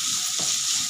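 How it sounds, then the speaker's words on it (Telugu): Onions fry in a hot oil-filled kadai with a steady, close sizzle and occasional stirring, loud and continuous. "దాన్ని బాగా గోల్డెన్ బ్రౌన్ వచ్చిందాక వేయించాలి"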